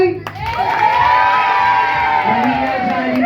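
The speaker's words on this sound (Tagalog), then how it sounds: "malakas na palakpakan na may kasamang sigawan na po" Children and adults at a Jollibee birthday party for Skye burst into loud cheering and shouting, a sustained, close, excited roar with whoops rising over it for several seconds.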